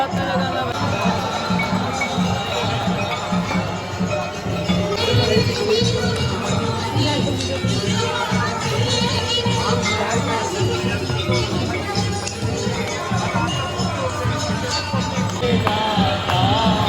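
A dense crowd at Haridwar fills the air with continuous babble, footsteps and small metallic clinks, close and busy throughout with no pause.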